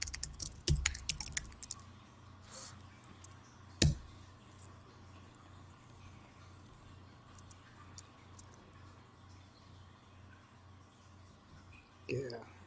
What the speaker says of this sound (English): I'll just type a couple of things.